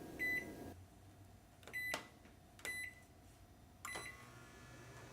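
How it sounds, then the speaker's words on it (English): A microwave oven powered through an inverter hooked to a battery hums steadily at low level, with several short bright beeps scattered across the few seconds. "Then we're going to run the microwave here."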